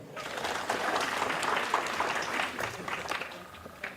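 An audience claps at a talk, dense steady clapping that swells early and holds throughout, with a few louder individual claps near the end.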